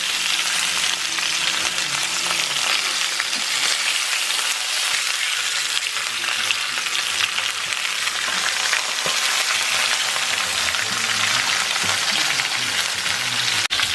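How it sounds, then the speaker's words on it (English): Oxtail pieces sear in a hot pan, a steady close sizzle and crackle of frying fat running unbroken throughout with no talking. "So they're done searing on one side, so I'm going to turn it over completely."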